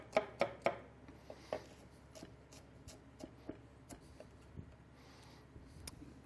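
Rough chopping of vegetables with a knife on a board, a quick burst of three sharp cuts followed by scattered, softer irregular chops at moderate distance, with no talking.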